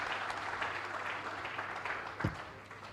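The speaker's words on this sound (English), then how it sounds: "Please give them all another round of applause" Conference attendees at a Nigerian federalism event give a round of applause, a steady, moderately distant wash of many hands clapping that holds evenly and starts to thin toward the end, with one brief louder bump partway through.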